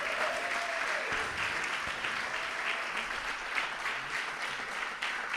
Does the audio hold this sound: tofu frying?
no